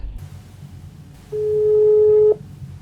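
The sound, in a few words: telephone call tone while dialing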